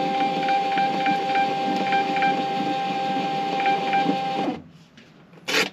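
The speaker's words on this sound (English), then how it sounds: "I need my thermal printer, print using system dialog" A thermal label printer feeds and prints a label with a steady close whir and a faint rhythmic ticking for about four seconds, then stops, leaving a short click near the end.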